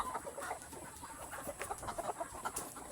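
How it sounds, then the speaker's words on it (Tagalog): Chickens in a pen keep up a busy chorus of overlapping clucks, near and continuous, with small peaks of louder calls and no people talking. "Ito pala guys yung mga manok."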